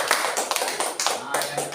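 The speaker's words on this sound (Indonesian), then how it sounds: "Kita kasih tepuk tangan buat Pak." A classroom of children claps briefly for their teacher, a short burst of quick, close claps mixed with chatter.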